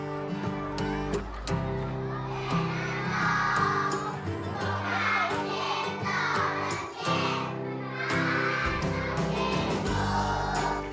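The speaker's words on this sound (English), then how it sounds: "It's 7 o'clock in the morning, and this is the sound of school waking up." Children's voices fill a Chinese school at 7 am as it wakes up: a dense, continuous crowd babble with shouts rising and falling over a steady low hum, heard from a short distance.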